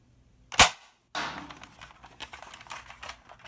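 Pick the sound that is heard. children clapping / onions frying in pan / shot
shot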